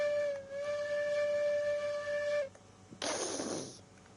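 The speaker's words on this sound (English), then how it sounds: "Does it still whistle is what I'm wondering." A steam locomotive whistle in the railroad game Railroads Online sounds a steady multi-tone blast for about two seconds, followed by a sharp burst of hissing steam; no voices.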